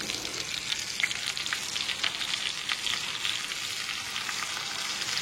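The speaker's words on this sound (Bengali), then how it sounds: "এবারে এই পাতুরি, লাউ পাতার পাতুরিগুলোকে আমি একে একে বসিয়ে দেবো" Bottle gourd leaf paturi parcels frying in oil on a griddle over medium-low gas flame, giving a steady, close, continuous hiss and crackle of sizzling throughout, with no talking.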